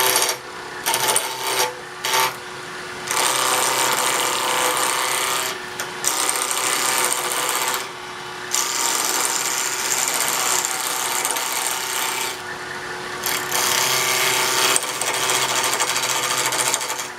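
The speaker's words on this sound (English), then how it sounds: "I'm using a small 3/8 inch bowl gouge to rough this, coming in from outside, taking very light cuts." A 3/8 inch bowl gouge taking very light roughing cuts on a wooden knob spinning on a wood lathe, a buzzing, rattling scrape that comes in repeated bursts separated by short quiet gaps.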